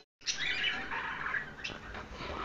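Birds chirp and tweet at the Mirpur bird market, a bright, busy cluster of calls that starts abruptly and then continues steadily, fairly faint and with no talking.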